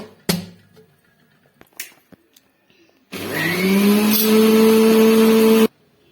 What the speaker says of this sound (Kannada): ಮಿಕ್ಸಿ ಮಾಡ್ಕೊಂಡು ಬರೋಣ